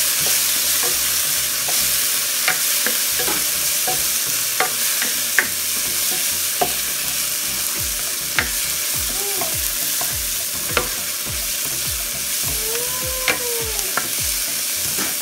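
Onion and tomato sauté in hot oil for bopis, sizzling steadily with frequent sharp clinks and scrapes of a spoon stirring in the pan, close and continuous, with no talking.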